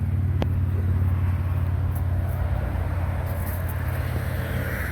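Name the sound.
road traffic passing by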